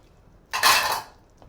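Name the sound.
adding potatoes and carrots to a pot of bulalo beef soup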